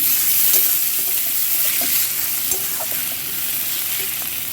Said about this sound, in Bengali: এর মধ্যে টমেটো কুচনো দিয়ে দিচ্ছি